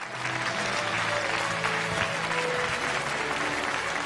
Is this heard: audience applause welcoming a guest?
yes